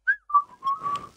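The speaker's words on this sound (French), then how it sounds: "On peut jouer à celui qui siffle le plus aigu, très longtemps comme ça" A person whistles in short, high-pitched bursts that rise and fall, close and clear with no talk.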